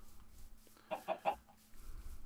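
A chicken in the Minecraft video game gives three quick clucks. The sound is faint and sits alone against quiet game ambience.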